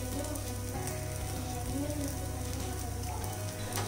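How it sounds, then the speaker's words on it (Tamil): Oil sizzling in a hot soapstone pan, a dense, steady crackle like rain on a surface, loud and close, continuing without a break and without talk. "இப்போ கொஞ்சமாக எண்ணெய் விடுறேன்"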